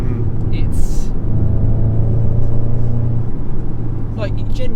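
A VW Golf Mk7.5 GTI Performance Pack pulls hard through third gear on a cold, wet road, its engine note rising in a steady humming drone heard from inside the car, with voices talking over it.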